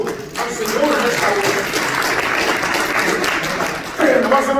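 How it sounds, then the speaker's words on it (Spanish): A church congregation claps together during a Spanish-language sermon, a steady wash of applause with voices speaking over it at the start and end. "Dar un aplauso al Señor en esta"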